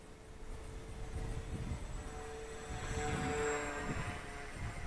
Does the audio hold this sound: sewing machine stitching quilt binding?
no